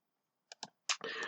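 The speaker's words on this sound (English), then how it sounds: "Pardon my loud keyboard typing" Keys on a loud computer keyboard clack sharply and close up: a few separate taps come first, then a dense burst of fast typing.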